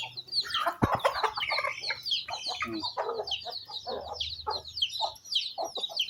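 A hen clucks among newly hatched chicks, with constant high peeping from the brood and a sharp knock early on, close and busy, no talking.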